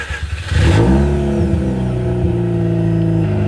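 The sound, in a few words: Mazda RX8 rotary engine starting and revving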